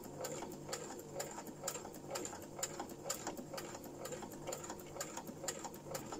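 Sewing machine stitching fabric trim close by, a steady rapid needle chatter with short pauses and bursts, running alone without talk.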